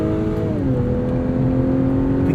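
A 2021 Acura TLX Advance SH-AWD with a 2-liter turbo engine holds high revs while cornering, a steady loud interior drone whose pitch dips briefly as the revs shift, then settles and holds.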